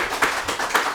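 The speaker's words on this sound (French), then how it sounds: "On applaudit ça quand même" Brief burst of audience applause during a French-language student debate, a few loud claps standing out over a dense patter of hands, close and short.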